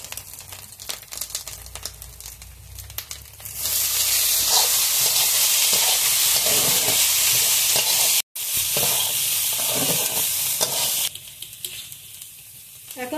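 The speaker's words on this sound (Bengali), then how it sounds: "ভেজানো ডালটা এখন দিয়ে দিচ্ছি" Soaked chana dal hits hot oil with fried spices, and a loud, sustained sizzle and hiss bursts up, broken by a brief gap, while stirring scrapes underneath before the frying settles to a quieter crackle.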